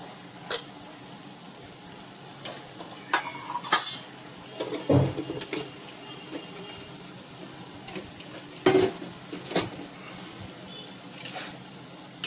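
Onion and chili powder frying in a pan while being turned, scattered metallic clinks and scrapes of the spoon against the pan over a low, steady sizzle, close and fairly loud, with no speech.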